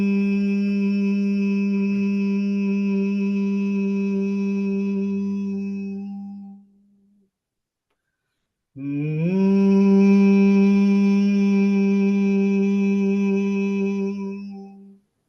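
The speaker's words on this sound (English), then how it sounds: "take a deep breath, and then hum deeply and intensely without" A single voice hums deeply and continuously during a meditation breathing exercise, holding one long low drone for about six seconds, pausing briefly for breath, then resuming an equally long, steady hum, close and alone.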